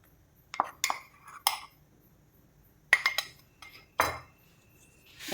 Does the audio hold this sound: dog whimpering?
no